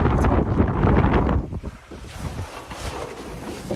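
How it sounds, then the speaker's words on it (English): Strong wind on the Isle of Skye, Scottish Highlands, buffets the microphone in loud, rumbling gusts, easing briefly before picking up again. "It's actually really windy."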